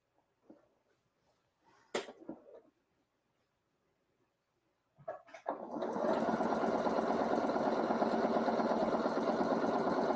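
A sewing machine runs steadily at speed, stitching fabric for a ghost garland craft, loud and continuous after a few soft handling clicks and taps.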